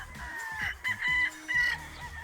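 Paul's Park Gray gamefowl roosters at a gamefarm crow in several drawn-out bursts with scattered clucking in between, fairly close and clear, with no talk.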